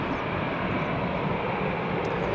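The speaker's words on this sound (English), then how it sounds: "It's a Ryanair on the ground." A Ryanair airliner on the ground at Newcastle International Airport gives a steady, broad engine rumble and whine, continuous and fairly loud with no break, and no voices.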